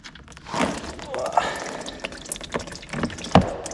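Engine oil from an Audi S6 V10 splashes and trickles into a drain pan in irregular spurts and drips, close and moderately loud, with a voice speaking in between.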